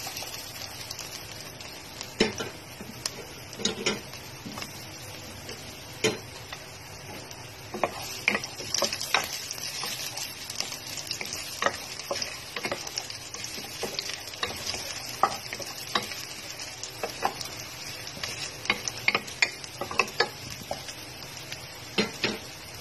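Garlic, four cloves, frying in a pan makes a faint, steady sizzle broken by scattered sharp clicks and taps as it is stirred.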